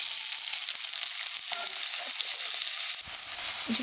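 Vegetables blister and fry in a small amount of olive oil, giving a steady, close, bright sizzle that holds throughout with a brief dip near the end and no voices.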